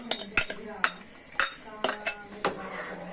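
Eggs are stirred into chicken soup in a pot, a metal spoon clinking sharply against the sides in a string of separate taps and scrapes, fairly close and alone.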